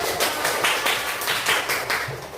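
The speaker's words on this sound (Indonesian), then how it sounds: "Kasih tepuk tangan untuk kita." A school class claps together after a classroom game, the claps coming in a loose rhythmic pattern of bursts, fairly close and with no talking over them.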